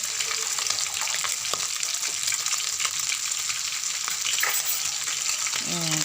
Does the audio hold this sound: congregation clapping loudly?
no